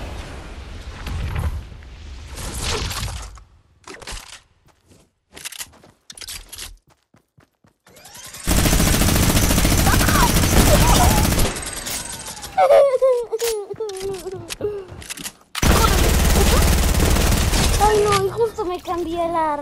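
Gunfire in the video game Fortnite, heard as loud, dense bursts of shooting separated by quieter gaps, with a voice talking between the volleys.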